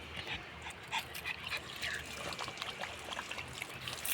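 Water trickling as it is poured for the pet dog Bruno, with the dog's quick panting and faint whimpers close by, light and intermittent under a quiet background.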